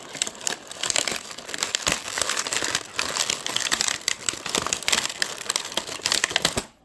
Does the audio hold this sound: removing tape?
yes